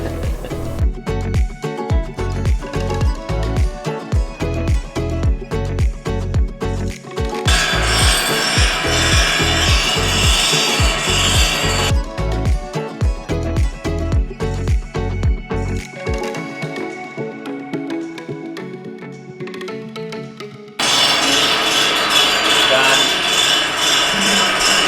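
A reel mower blade is ground against a sharpening stone with loud, rhythmic rubbing strokes at first, then long stretches of continuous harsh grinding that stop and restart.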